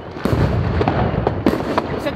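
New Year's Eve fireworks crack and bang nearby in a rapid irregular series of sharp bursts over a rumbling background, with a voice talking among the explosions.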